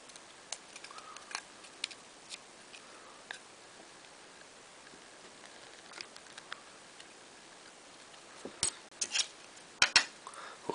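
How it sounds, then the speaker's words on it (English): Small knife trims plastic edges off an RC John Deere 9560R tractor part, producing sparse, close, faint clicks and scrapes, with a cluster of sharper snaps near the end and no talking. "So should be just able to take these edges off with a little knife."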